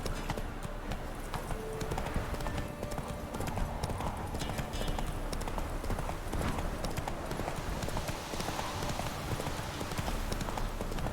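Roach, Geralt's horse in The Witcher 3 video game, gallops with a steady, driving clip-clop of hooves on ground, a continuous rapid rhythm close by over game ambience and faint background sound.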